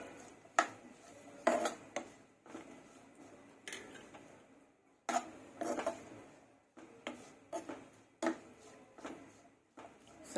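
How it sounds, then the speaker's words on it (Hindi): A metal spoon scrapes and clanks against a pan as grated coconut is stirred quickly for panjiri, in repeated uneven bursts of close scraping and knocking with short pauses between. "उसी में नारियल डालेंगे। देखिए जल्दी चलाते रहना है।"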